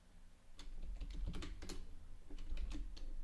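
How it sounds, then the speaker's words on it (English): Rapid, uneven clatter of keys on a computer keyboard while someone types into an IRC chat window, quiet clicks in quick bursts over a low background hum. "I'm typing into my IRC window to ask the IRC bots about these monsters"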